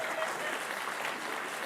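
Applause from a crowd fills the moment: a loud, continuous wash of clapping with no pauses, alone and without talk, over a short stretch.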